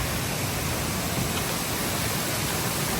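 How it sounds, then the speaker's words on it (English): Loud, unbroken roar of rushing water from a waterfall in Sabang, Palawan, Philippines, dense and steady like heavy white noise. "You can hear the raging water."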